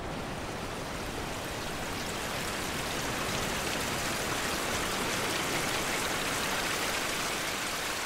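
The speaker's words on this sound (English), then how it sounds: "it's nice to hear the gentle flowing water of this stream" A steady, continuous rush of flowing water from a small stream on farmland along the Cleveland Way in winter, even and unbroken with no voices.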